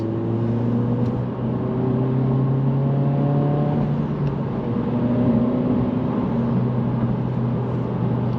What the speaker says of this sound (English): you might be able to hear that induction noise and even the recirc when I'm letting off of the turbo